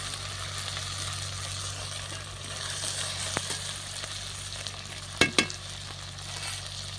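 Chopped tomato fries with ginger-garlic paste in a pan over a clay stove, a steady soft hiss over a low hum, with two sharp metal clanks near the end.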